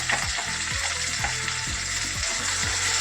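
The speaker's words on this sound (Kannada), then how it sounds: "ಚೆನ್ನಾಗಿ ಫ್ರೈ ಮಾಡ್ಕೋಬೇಕು ಇದನ್ನು." Ground masala paste for chana masala fries in a pan with a loud, dense sizzle and crackle, close up, as a spoon stirs and scrapes through it in regular strokes, with no voices.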